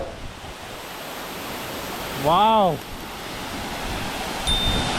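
Constant rushing roar of a waterfall fills the scene, with a man briefly exclaiming over it midway.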